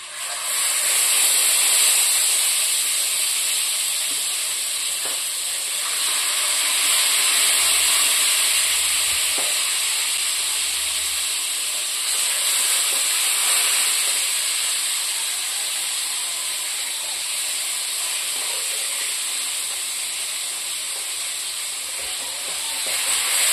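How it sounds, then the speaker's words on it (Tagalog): Steady, loud sizzling and hissing of fish frying in hot oil, continuous throughout with gentle swells in intensity. "Prito na ako ng guys,"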